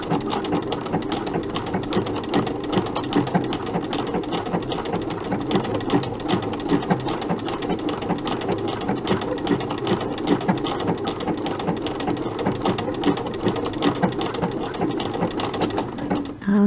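Sewing machine stitching a machine appliqué block, running in a fast, steady, continuous whir with rapid needle ticks throughout, close and alone without voices.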